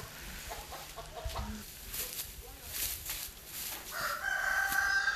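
Chickens in a coop cluck and a rooster crows while people talk nearby, the birds fairly close and intermittent beneath the voices.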